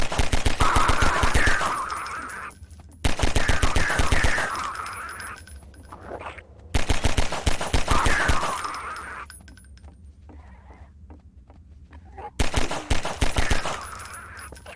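Pistol and shotgun gunfire in the Half-Life 2 beta video game: loud repeated shots in several bursts, sharp rapid cracks with ringing tails and quieter pauses between the volleys.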